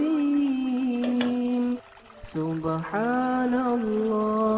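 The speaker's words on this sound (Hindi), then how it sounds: "इसमें हाफ कप पानी डाल के इसे कुक होने के लिए रख देंगे" Half a cup of water poured into a cooking pot for a Pakistani lunch-box dish, a steady tonal pouring sound near and loud, its pitch shifting as the pot fills, with a brief dip midway.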